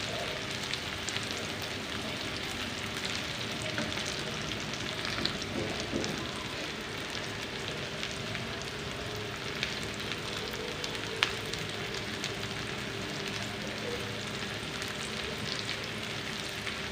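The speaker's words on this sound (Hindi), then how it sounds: "यहाँ पे जी प्याज हमारे नरम हो चुके हैं। अब सब्ज़ मिर्ची शामिल करेंगे। और 1 मिनट के लिए पकाएंगे।" Softened onions and green chilies fry in a pan for egg and onion curry, a constant dense sizzle and crackle with occasional faint stirring taps, close and continuous without speech.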